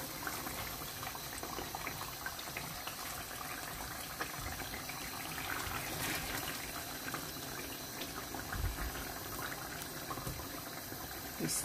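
Gizzard stew with vegetables is stirred in a pot, giving a steady bubbling, liquid simmer with soft scraping and sloshing throughout, close and moderately quiet, with no talking.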